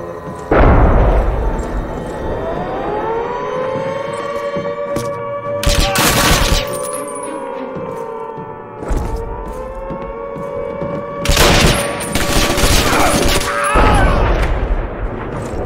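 Heavy battle din from a Call of Duty United Offensive mission in Sicily, July 1943: loud bursts of gunfire and explosions over a wailing air-raid siren that rises and holds, with two big blasts standing out; no speech.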